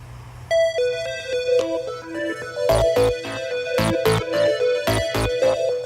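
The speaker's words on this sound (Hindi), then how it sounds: "अबे उठा ले फोन" An electronic phone ringtone plays a repeating melodic tune of bright tones, fairly loud and close, with no talking.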